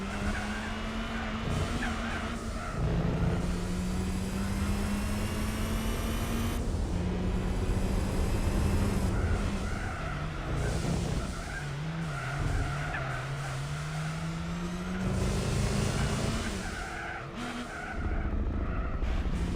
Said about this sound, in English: In case you wonder what all those little gas noises are, that's the turbo